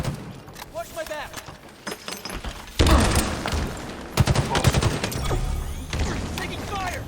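Rapid gunfire in a Halo Infinite Strongholds match crackles in dense bursts that grow louder and heavier midway, mixed with weapon mechanisms and game effects while players talk over the action.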